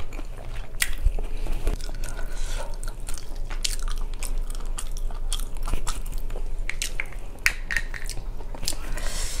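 Cream-filled pastries dipped in sauce are bitten and chewed up close, giving soft squishy munching with a few sharper crunchy bites across a steady stream of mouth sounds.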